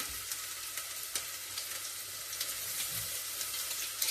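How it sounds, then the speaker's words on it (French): Chopped onions and garlic fry in a little hot olive oil, a steady close sizzle with occasional soft stirring scrapes, no talk. "c'est de faire revenir les oignons et l'ail haché dans un petit peu d'huile qu'on a mis à chauffer"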